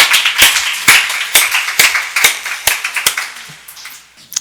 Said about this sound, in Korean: 주님께 박수하겠습니다.